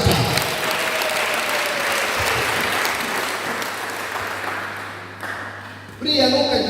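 Church congregation at an Easter celebration service applauds loudly and steadily, the clapping gradually fading before a brief electronic tone and renewed noise at the end.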